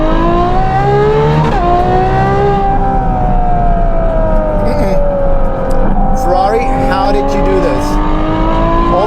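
Novitec-tuned Ferrari 12Cilindri with Inconel exhaust accelerating hard in second gear, a loud rising engine note climbing steadily toward the limiter, with voices over it.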